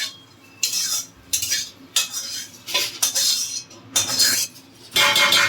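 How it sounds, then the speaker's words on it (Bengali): A spatula scrapes and clanks against a metal wok as plain rice is stirred, in bursts of rough metallic scraping with short pauses between strokes, close and loud, with no voices. "আমি অল্প ভাত নিয়ে কড়াইয়ের মধ্যে দিয়ে নেড়ে তারপর বাকিটা হাঁড়ির মধ্যে দিয়ে নেড়ে নেব"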